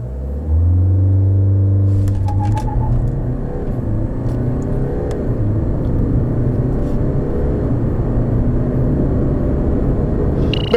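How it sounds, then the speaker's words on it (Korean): A 2018 BMW 520d diesel accelerates hard from a standstill: the engine note climbs then settles into a loud, sustained rumble with shifting tones, heard from inside the car with no talking. "그렇다면 520D 과연 얼마만큼의 가속 성능을 내는지 한번 확인해 볼까요?"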